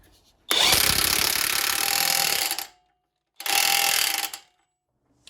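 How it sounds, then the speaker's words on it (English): An impact wrench runs down the front axle nut while a Ford Edge wheel bearing is being replaced. There is one long, loud rattling burst of about two seconds, a short pause, then a second burst of about one second. "We're going to run it down with the impact first, just to get it on there most of the way"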